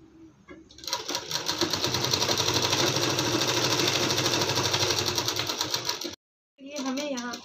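Close, steady whir of a sewing machine stitching a lined suit, running continuously for several seconds before cutting off abruptly, with a voice talking afterward.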